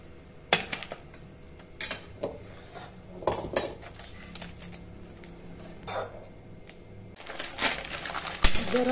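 Coconut and semolina burfi mixture scraped from a hot pan onto a plastic sheet laid on a rolling board, giving scattered close metallic scrapes and clinks of a utensil against the pan, some sharp, over quiet background.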